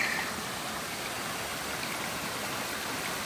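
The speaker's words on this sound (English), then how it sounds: "This is a small part of the waterfall." A small part of a waterfall on a trail, heard as a steady, close rushing of water with constant broadband splashing and no voices.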